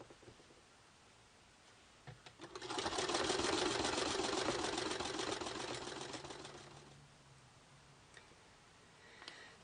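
A sewing machine stitches fabric pieces for a Victorian handbag, a rapid close mechanical whirr of the needle running for about four seconds after a few clicks, then winding down into quiet handling.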